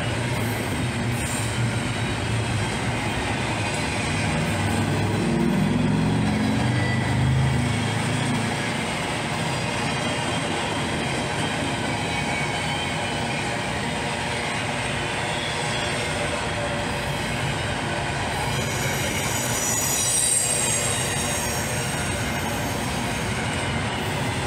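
A long freight train of mostly empty intermodal cars, including Gunderson cars, rolls past with steady broadband rumble and rattle, loudest early and again near the end, with no talk.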